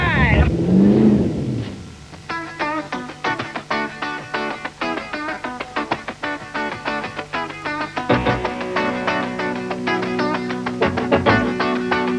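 Rally car in Ashley Forest, 1989, driving down to the finish line, its engine note rising and shifting under a commentator's excited talk, with crowd noise around it.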